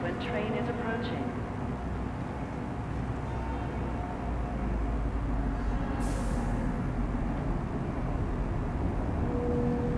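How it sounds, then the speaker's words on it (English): A train approaches a platform in the video game Star Citizen, heard as a steady, loud rumble that stays constant throughout, with a brief hiss partway through. "Step away from the platform edge when train is approaching."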